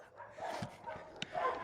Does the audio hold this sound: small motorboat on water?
no